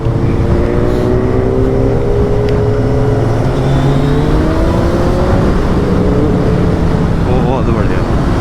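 Maruti Swift revving and racing on a highway, its engine droning loud and steady with rising and falling pitch under heavy wind and road noise, with other traffic nearby throughout.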